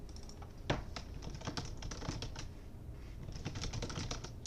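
Keys clatter on a computer keyboard in a quick, irregular burst of typing, fairly faint and close, with no talking.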